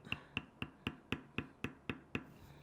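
A beveling tool is struck with a mallet on tooling leather for a mouse pad wrist guard, giving nine sharp, evenly spaced taps about a quarter second apart, close and clear with nothing else heard.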